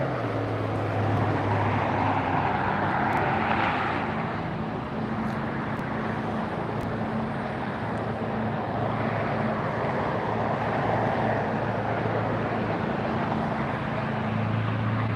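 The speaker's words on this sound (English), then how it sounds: "747 arriving now." Boeing 747 airliner arriving at LAX, a moderate distant rumble of jet engines with low droning tones that swell and ease over the span, with no talk.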